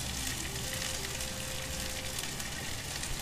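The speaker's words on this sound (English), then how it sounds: "we're gonna saute the cauliflower and the remaining half of the onion over medium-high heat" Cauliflower and onion sauté over medium-high heat for tacos, a dense, even frying hiss that runs steadily without pauses, heard close and alone.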